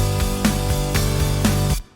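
A distorted, high-drive pop punk bass line plays together with piano in a steady driving rhythm, loud and full, then cuts off abruptly near the end.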